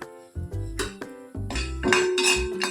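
Almonds being dry-roasted in a metal pan make hard clinks and clattering knocks in irregular bursts, close and fairly loud, with no voices.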